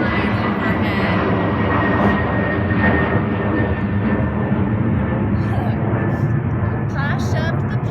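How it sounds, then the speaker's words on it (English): An airplane flying overhead near an airport gives a loud, steady broadband roar that persists evenly throughout, with talk occurring over it. "I live by the airport, and there's a plane flying overhead."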